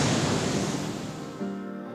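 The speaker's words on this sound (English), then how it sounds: "this is one of the most spectacular waterfalls I think I've ever seen." Large waterfall in the Scottish Highlands, a dense, roaring rush of water that stays loud and constant, easing slightly toward the end, with no talking.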